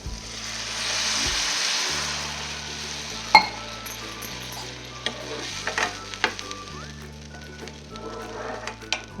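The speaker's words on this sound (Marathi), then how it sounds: "आता थोडंसं पाणी ओतून घेते." Water poured into hot spiced oil while cooking a sandge curry sizzles and crackles steadily, with a louder hiss early on, occasional clinks and stirring scrapes, and a low hum beneath.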